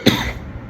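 A teacher gives a single sharp, close cough during a Grade 8 Tamil lesson, followed by a brief fading breathy tail.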